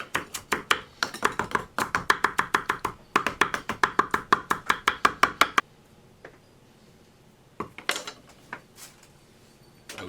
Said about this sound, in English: Do a chiffonade on your cilantro